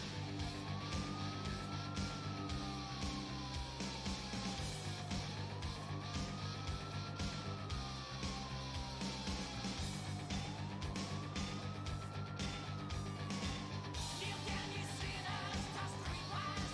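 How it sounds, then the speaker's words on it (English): A police car siren in Grand Theft Auto IV wails with a slow rising and falling tone, repeating steadily over a dense bed of engine and street noise, with no talk. "Just police car."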